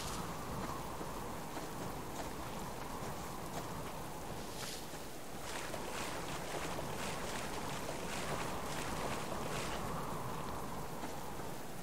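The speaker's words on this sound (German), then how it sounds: "Das ist schön windig, oh. Man hört's." Wind blowing in the survival game Subsistence, a loud, steady broadband rush that swells with gusts and holds through the whole stretch, with no talking.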